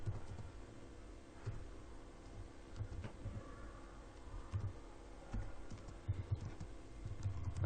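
Typing on a computer keyboard while writing HTML and CSS code, a steady run of soft clicks and taps with occasional louder keystrokes over a low room hum, no talking.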